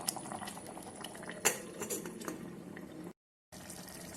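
Vegetable curry bubbling and simmering inside an electric kettle, a steady close boil with a sharp clink near the start, then a brief break in the sound before the bubbling resumes.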